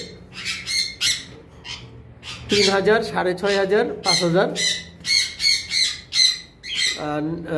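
Sun conure and green cheek conure parrots squawk and chirp in sharp, repeated bursts while playing, close and loud, with someone talking over them throughout.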